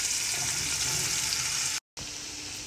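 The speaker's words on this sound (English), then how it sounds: "you're gonna take the carrots, you're gonna dump them in the grease, and the onions and the celery." Carrots, onions and celery fry in bacon grease in a pot, giving a steady, loud hiss that runs throughout with one brief dropout near the end.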